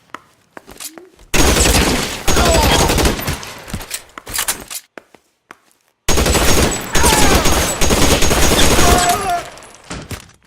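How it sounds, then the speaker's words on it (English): Heavy gunfire from an L.A. Noire shootout, sustained rapid volleys in two long, loud bursts separated by a brief lull, with scattered single shots at the start. "Shots fired."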